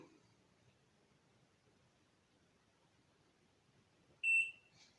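A digital bathroom scale gives a single short, high electronic beep as it switches on, clear and close after several seconds of near silence in a quiet room.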